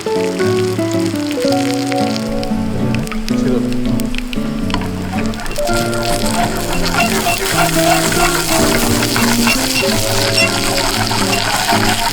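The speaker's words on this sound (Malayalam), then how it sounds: "കടുക് പൊട്ടാറായുണ്ട്." Mustard seeds splutter in hot oil with dried red chillies, shallots and curry leaves for an Angamaly mango curry tempering. Crackling sizzle runs beneath louder melodic background music.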